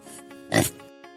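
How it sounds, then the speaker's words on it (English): A farm pig gives one short, loud grunting oink, a brief snorting burst standing alone between faint pauses. "it's a pig"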